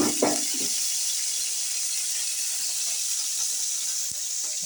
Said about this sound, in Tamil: இது தீயாமல் இருக்கிறதுக்கு கொஞ்சம் தண்ணி ஊற்றிடுறேன்.